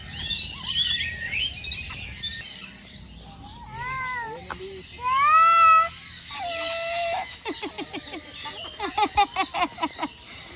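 Shrill squawks and chirps from a bird rise and fall in varied calls, ending in a rapid series of sharp notes, with some background noise.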